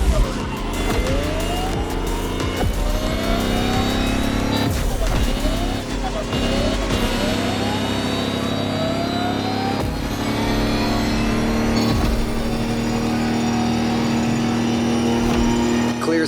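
Electric Lamborghini hyper concept car racing in The Crew Motorfest, a steady loud drive tone with rising whines and brief tire squeals, heard under a continuous music and voice bed.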